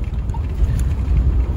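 Rain falls as a car drives along a muddy road under construction between Phetchabun and Bangkok, a loud, steady wash of hiss and low road rumble throughout, with no voices.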